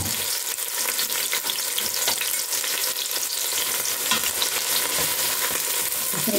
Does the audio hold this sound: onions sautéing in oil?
yes